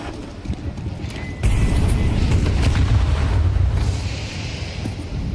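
Grenades explode at the banana area in a Counter-Strike pro match between Falcons and Vitality. A sharp, loud burst sets off a dense, sustained rumble of blasts and crackling that slowly fades over a few seconds.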